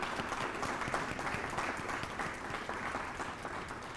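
An audience at a city beautification awards ceremony in Farmington Hills claps steadily and continuously, a dense wash of many hands at moderate loudness throughout, with no voices standing out.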